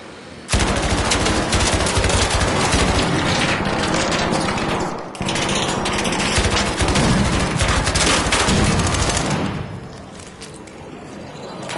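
A video game turret fires its machine gun in a loud, dense, continuous burst lasting about ten seconds with a brief dip midway, then cuts off.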